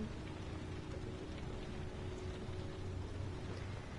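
Soft, continuous patter of rain falling in the video game Heavy Rain, a steady hiss with a faint low rumble underneath, quiet and even throughout.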